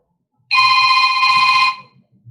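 A telephone gives one loud electronic ring that lasts just over a second and cuts off abruptly. The ring interrupts a quiet church sermon, and faint murmurs follow it.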